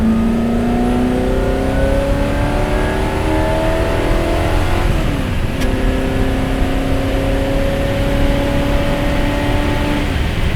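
A Superformance Ford GT40 MKII V8 revs hard under full acceleration, a loud, continuous rising engine roar that climbs through the RPM band, briefly dips at a gear change, then pulls strongly again.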